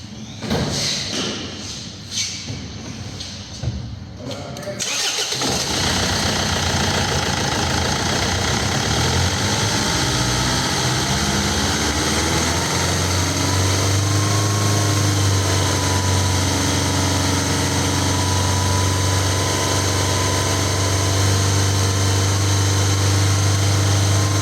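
A Land Rover Freelander engine with faulty injectors runs steadily at raised revs, a loud continuous drone with a low thumping undertone, preceded by a few seconds of clattering handling noise.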